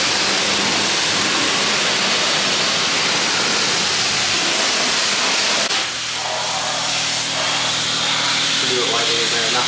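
A pressure washer sprays high-pressure soap onto a car, a loud continuous hissing spray that shifts in tone midway as the nozzle moves, with a speaking voice faintly underneath.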